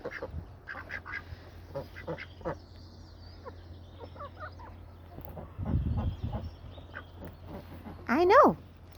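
Rescue chickens and ducks murmur and cluck inside their coop, with a brief louder quack near the end. A person speaks softly over them throughout.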